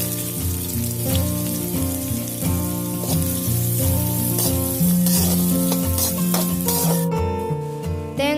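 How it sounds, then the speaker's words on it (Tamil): Chopped onions sizzle with cinnamon, cloves and fennel seeds in a pan for a yam fry dish, a steady frying crackle mostly buried under loud background music. "நறுக்கிய வெங்காயம்"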